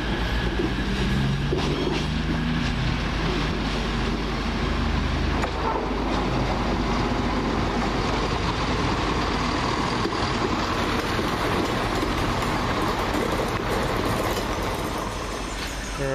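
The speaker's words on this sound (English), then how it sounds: "the 12:25 London Midland service from Birmingham New Street to Shrewsbury" A London Midland passenger service bound from Birmingham New Street to Shrewsbury rumbles loudly and steadily through Wolverhampton station, broadband rail roar with clattering wheels filling the whole stretch, no voices.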